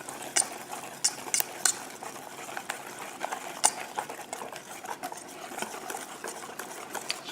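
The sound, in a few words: mixing gluten free pancake batter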